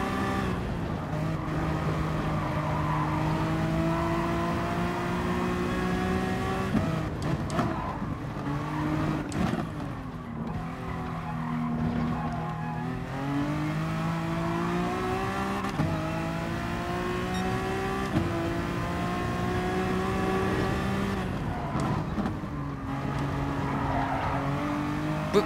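A Honda NSX Gr3 race car in GT Sport revs hard through its gears, the engine note climbing and dropping repeatedly between shifts, with occasional tire squeal, loud and continuous, with no talking.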